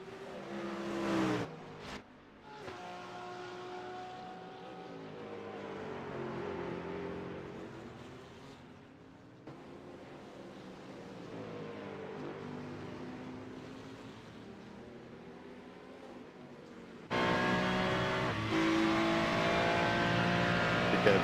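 Race car engines, a Ferrari and a Mustang, in a sim racing game at the Nürburgring GP circuit, sustained engine drones rising and falling in pitch through gear changes, with a louder, higher engine passage toward the end.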